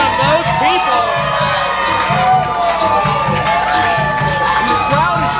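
A wrestling arena crowd cheers and whoops loudly throughout, a dense roar of voices with shouts rising and falling, while a commentator talks over it.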